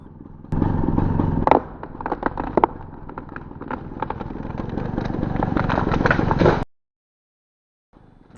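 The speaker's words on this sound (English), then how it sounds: "Let's watch and listen to this hinge hold in slow motion." A cut tree, near a maple limb, tips over on its holding hinge, replayed in slow motion: a sustained low creaking rumble with several sharp cracks and thuds, then abrupt silence before a faint sound returns.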